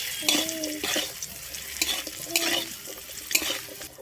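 Grated coconut frying in a pan for a village-style khesari greens dish, a soft steady sizzle with repeated stirring scrapes, close by, with faint speech.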